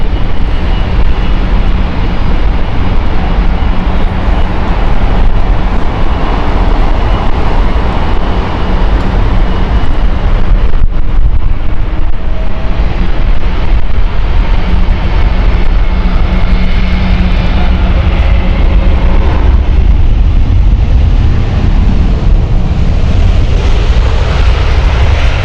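A Boeing 787-8 airliner, registration C-GHQQ, on the Montreal service at Heathrow, produces a loud, steady broadband jet roar that holds throughout with a low rumble underneath, alone with no voices.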